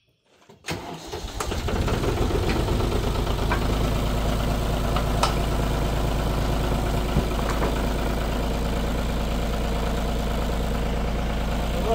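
A sawmill engine starts and settles into a loud, steady idle as it warms up before cutting hickory logs, its low rumble continuous and close with faint knocking.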